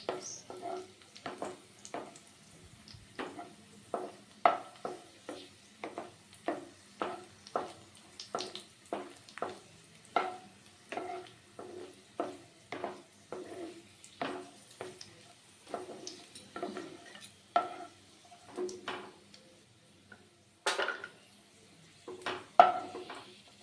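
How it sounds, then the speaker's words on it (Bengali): Cashew nuts and raisins frying in oil on low heat, a faint, regular series of soft scraping stirs repeating about once a second, quiet and close with no talking. "কাজু বাদাম আর কিশমিশটা ভেজে নেব।"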